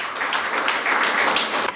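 Steady, dense applause from an audience at a Hindi poetry gathering, a continuous wash of many hands clapping at even loudness with no talk over it.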